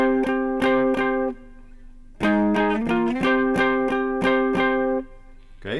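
A distorted electric guitar picks a riff: a note repeated in quick rhythmic stabs, a held tone, then more stabs after a short gap. Close and clear, with no talking over it.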